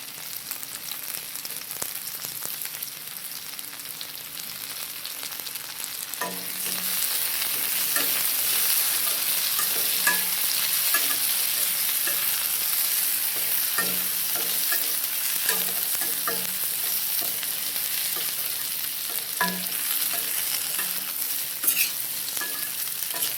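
Tomatoes and onions sauté in a pan for mutton thanni kulambu, with a steady broadband sizzle that grows louder partway through and repeated scraping stirs, close and continuous with no talk.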